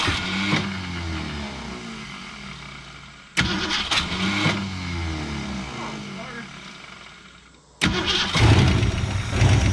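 The engine of an abandoned 1965 Ford Falcon cranks and catches, then revs and idles loudly nearby, restarting after abrupt cuts, with people talking over it.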